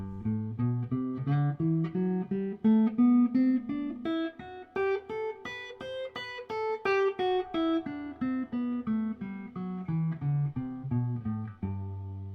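An electric guitar plays a single-note scale, climbing steadily upward and then descending back down, each note plucked cleanly and evenly spaced.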